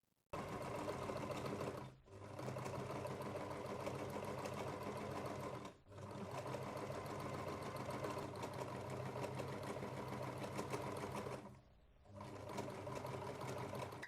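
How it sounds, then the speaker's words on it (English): A sewing machine stitching a crochet pillow's sides together runs in long continuous bursts of fast, buzzing stitching, pausing briefly three times before starting again, close and steady. "I'm going to go to my sewing machine and I'll place these two sides together."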